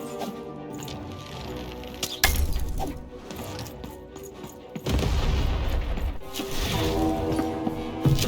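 Cannon fire in a video game: heavy booming blasts with crashing, shattering debris, one sharp burst around the middle followed by a sustained loud rumble of impacts and breaking, no talking.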